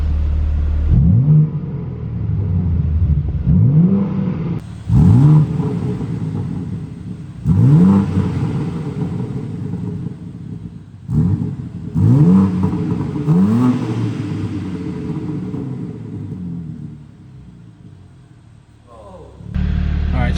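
A 2023 BMW M3 Competition xDrive with its S58 engine and exhaust valves open, idling in neutral and revved hard about five times in quick blips. Each rev swells loud and close, then drops back to a deep idle rumble.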